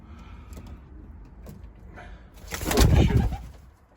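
Pigeons coo softly in a loft, then a louder burst of cooing and flutter rises near the end of the short stretch.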